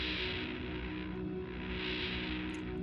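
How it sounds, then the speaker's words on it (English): Shoegazy reverb from a Dark Star Stereo ambient pedal: a thick, distorted, swelling wash of sustained guitar tone that gently rises and falls in brightness, continuous and alone. "There's your shoegazy reverb right there."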